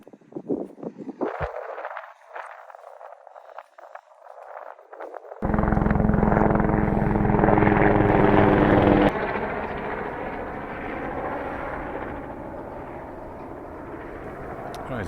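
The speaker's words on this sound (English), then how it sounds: "the helicopter went flying by there, caught me off guard" A helicopter on the east coast of Scotland roars in loudly, its rotor thumping and engine whining as it passes close overhead, then fades into a lingering rumble.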